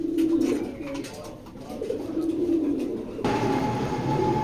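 Female grizzle racing pigeons coo and murmur close by, a steady soft flock sound with a faint rumble behind it that grows brighter and busier toward the end.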